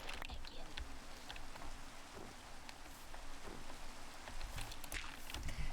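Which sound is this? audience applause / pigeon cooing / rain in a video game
rain in a video game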